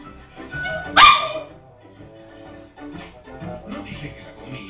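A Bichon puppy lets out one sharp, loud bark close by, followed by softer yips and whimpers while people talk in the background.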